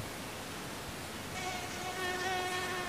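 A mosquito buzzes in a thin, continuous whine that grows slightly louder partway through and holds steady to the end, heard alone without talk.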